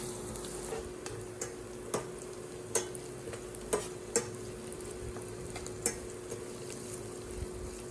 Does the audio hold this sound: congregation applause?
no